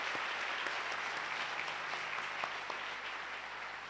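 A church congregation claps steadily through the whole stretch, a dense, fairly quiet wash of applause with no voices over it.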